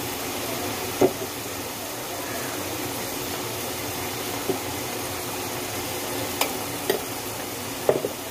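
Homemade masala sizzling and being stirred in hot oil for a chicken curry, a steady close frying hiss with a few faint scrapes and clinks of the spoon, no talking.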